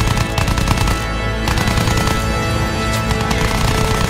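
Rapid machine-gun fire from fighter planes in the Battlefield 1 video game, a loud continuous rattle of bursts with booming low rumble throughout, no voices.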